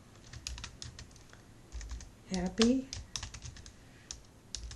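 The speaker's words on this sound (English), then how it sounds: "So let's start typing." Rapid keyboard typing of text for a glitter lettering design, soft close clicks in quick irregular bursts, with a brief spoken word partway through.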